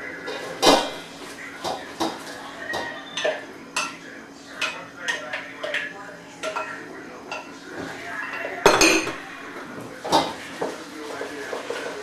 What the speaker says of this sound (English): You just stir it all together really quickly, and the egg is going to cook into sort of a sauce with the cheese